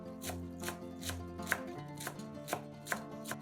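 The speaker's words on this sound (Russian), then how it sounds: "Пучок петрушки тоже измельчаем ножом" A knife chops a bunch of parsley on a board in sharp, evenly spaced strokes, about two per second, close and clear over a faint tonal background with no talking.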